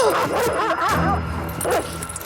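A dog yips, whimpers and barks in short excited bursts, loud and close, with a few brief pauses between the calls.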